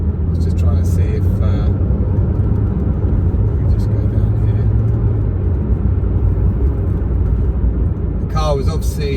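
A Porsche 911 GTS engine holds a loud, steady low rumble through a launch control start, continuous and close, with faint higher-pitched tones at the start and end.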